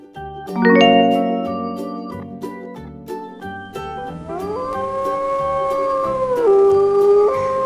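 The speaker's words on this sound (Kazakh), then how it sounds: "Қасқыр," A wolf howls in long, wavering tones that rise and hold, sounding close and fairly loud, with a brief tonal chime before it.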